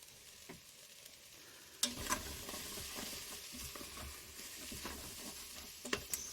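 Cinnamon, cumin and cayenne sizzle softly in an Instant Pot for sweet potato and peanut stew, with a low frying hiss and a few sharper clinks and scrapes as the spices are stirred, and no voices.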